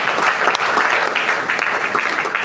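Audience at a hospitality and tourism stakeholders meeting in Edo state applauding the state governor, a brief dense burst of clapping heard close and continuous.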